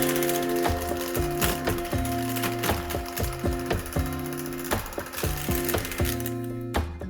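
An electric mixer whips mascarpone and cream up close, its steady motor whine broken by rhythmic clattering knocks as the beaters hit the bowl. No one speaks.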